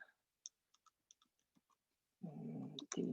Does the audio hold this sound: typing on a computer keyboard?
yes